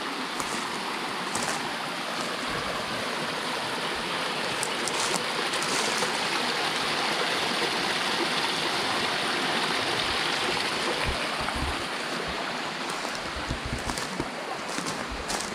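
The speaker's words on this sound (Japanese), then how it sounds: "とてもこの川の音というのはのどかな感じがします。" A small brook flows beside a shrine and temple hall in rural Aizu, Japan, a steady, close rushing and babbling of water that holds an even level throughout with no voices.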